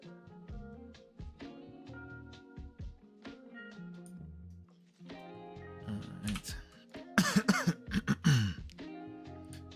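Several sharp coughs and throat-clearing bursts, close and fairly loud, spread across the clip between quieter tapping sounds, with a dense cluster near the end.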